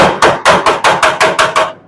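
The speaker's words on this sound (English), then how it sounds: "we're going to get a body hammer and just tap that in" A body hammer taps sheet metal on the trunk floor of a '70 Dodge Challenger, delivering about eight sharp, evenly spaced ringing blows up close.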